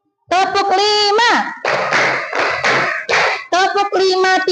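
A class of children claps along in rhythm during a lesson, loud clusters of hand claps alternating with chanted, sing-song voices close by.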